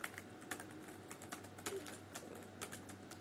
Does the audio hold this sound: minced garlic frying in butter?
no